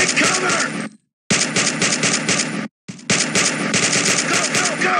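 Rapid automatic gunfire from a Toon Royale.io mobile battle game, dense loud bursts with two brief silent gaps, plus faint game effects.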